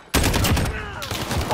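Gunfire in a 2v2 Modern Warfare multiplayer match: a loud burst of rapid automatic shots starts abruptly, pauses briefly, then resumes in dense rattling bursts, with no talk over it.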